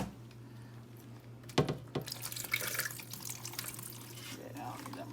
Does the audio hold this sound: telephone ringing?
no